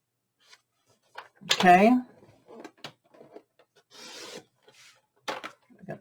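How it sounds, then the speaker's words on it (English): Cardstock is cut down to 7 3/4 inches with a few scattered, close rubbing and sliding scrapes of a paper trimmer, brief and quiet, interrupted by a short spoken word. "So we're cutting down the 8 1/2 inch length to 7 3/4."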